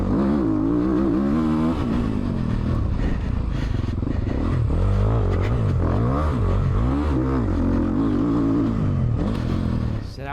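A Beta 450 dirt bike runs loud and close through a section of rollers, its engine revving up and down in rising and falling surges, with a commentator's voice at times.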